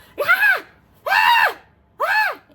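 A voice imitates the shouts heard from a kendo school, three loud, drawn-out, strained yells in a row with short pauses between them, close to the microphone.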